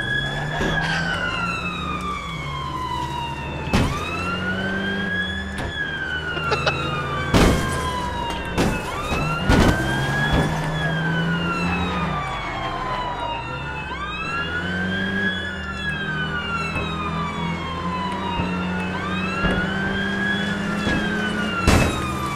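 Wailing ambulance siren from the video game APB Reloaded, rising and falling in repeated sweeping cycles over a steady low vehicle rumble, loud and continuous throughout.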